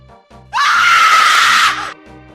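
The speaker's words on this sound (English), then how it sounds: "And so it triggers that really loud scream." A single loud, sustained scream sound effect set off by a $6.66 stream donation, bursting in sharply and holding for over a second before cutting off, with quiet background sound before and after.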